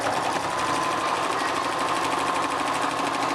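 A sewing machine stitches a fabric face mask, its steady, even whirr of rapid needle strokes running continuously and close throughout with no pauses.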